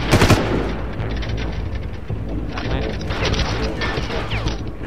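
Machine gun turret firing in Far Cry, a steady dense burst of automatic gunfire up close with loud impacts, sustained throughout under game noise.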